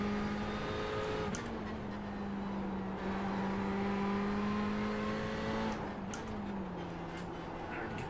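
Race car engine in a sim racing game at Mid-Ohio, a steady droning whine that sags in pitch as the car slows, with a few small shifts. It holds a constant level throughout.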